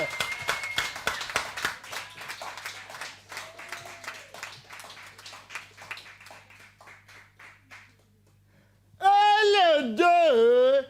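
Wedding guests at a church ceremony clap in a rhythmic burst that gradually thins and fades, before a loud voice takes over near the end.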